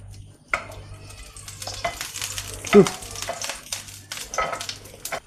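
Pancake batter cooking in a hot pan crackles with a light, uneven sizzle, broken by scraping and clinks of a spoon or utensil against the pan, close and fairly loud.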